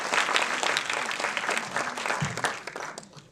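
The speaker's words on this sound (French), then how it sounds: "On va l'applaudir très fort, s'il vous plaît" A festival closing-night audience claps warmly, dense sustained applause that holds strong, then gradually thins and fades toward the end.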